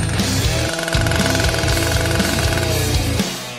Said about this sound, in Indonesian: Aku tidak butuh gergaji lagi.